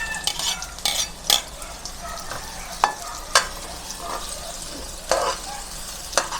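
Onions and garlic frying in hot oil for a crab and misua soup with patola, sizzling under repeated stirring as a utensil scrapes and clanks against the pan in short bursts.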